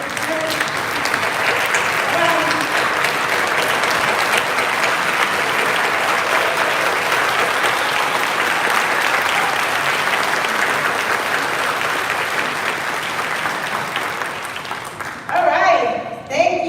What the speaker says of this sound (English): So can we give a round of applause?